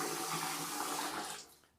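Strong running water pours in a hotel bathroom, a loud steady rush that holds for over a second and then quickly tapers to quiet.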